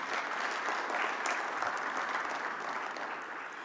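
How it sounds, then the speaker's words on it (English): Conference audience at a seapower symposium applauding its speakers, a sustained round of dense clapping from a large crowd that fades slightly toward the end. "let's give another round of applause to our speakers."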